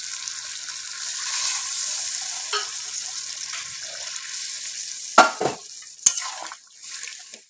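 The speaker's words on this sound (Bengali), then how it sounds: "এবার সবজির সঙ্গে মশলাটা ভালো করে কষানো হয়ে গেছে" Pointed gourd and potato frying with spices in a pan, a soft continuous sizzle broken by several sharp stirring scrapes and clanks near the end.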